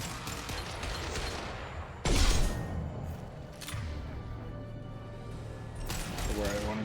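Gunfire in Mass Effect 2, a few scattered loud shots and bursts, one heavy blast near the start, mixed under a low game soundtrack with voices talking.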